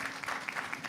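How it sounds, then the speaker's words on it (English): Brief, faint applause from an audience at an aviation symposium in a Zanzibar hotel, a short patter of clapping lasting about a second. "Can you give them a very big round of applause?"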